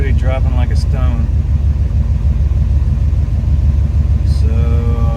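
A car engine idles through an oil pressure test, a loud, steady low rumble running the whole time, with a voice talking over it briefly at the start and again near the end.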